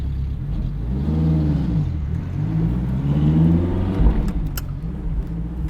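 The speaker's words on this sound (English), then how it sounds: "I am sitting in a Ferrari F430 Spider with the top down and a manual transmission" A Ferrari F430 Spider with its top down and a gated manual conversion drives along, its engine humming steadily and rising through two swelling pitch sweeps as it gains speed, heard from the cabin with no talking.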